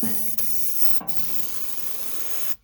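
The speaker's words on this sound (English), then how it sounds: "I removed that nut just so I could get more silicone spray in there" Silicone spray lubricant hissing from an aerosol can in one long continuous burst with a brief stutter, close up and loud, cutting off sharply.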